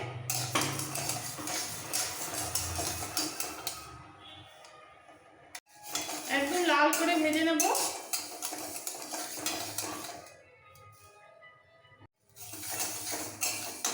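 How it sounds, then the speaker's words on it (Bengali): Spoon scraping and stirring dry mung dal as it roasts in a metal wok, with a brief clinking rattle of grains midway and pauses between bursts. "এবার এই কড়াইতে মুগ ডালটা রোস্ট করে"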